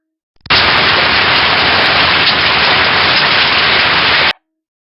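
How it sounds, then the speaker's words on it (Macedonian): Steady rain falls as a dense, even hiss that sets in suddenly, stays loud and unchanging for about four seconds, then cuts off sharply. "Ова беше, деца, звукот на дождот."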